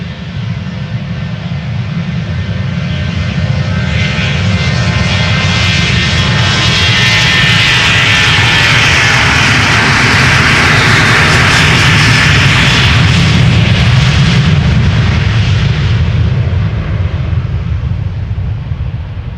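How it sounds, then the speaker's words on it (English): A KLM Boeing 737-800 taking off from Schiphol's Polderbaan runway, loud and close, its jet engines building into a sustained roaring thunder that swells and peaks midway and keeps rumbling throughout. "This is KLM flight 1199 going to Oslo. Another 737-800."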